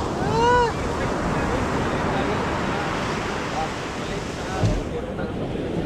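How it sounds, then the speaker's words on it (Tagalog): Large ocean waves surge and wash beside a small boat attempting a crossing, a loud, continuous roar of surf mixed with wind buffeting the microphone and brief voices. "Ayun, lumaki ang alon."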